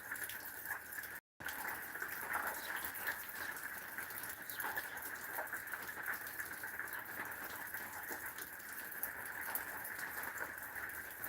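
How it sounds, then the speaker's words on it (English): Rain pattering on an RV roof and awning, a steady faint hiss of drops with a continuous higher tone, soft and even throughout apart from a momentary dropout near the start. "Just sit and listen to the rain on the"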